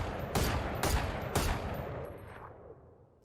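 Three loud gunshots from a pistol in the Valorant video game, evenly spaced single taps about half a second apart, each a sharp broadband crack followed by a decaying tail into quiet.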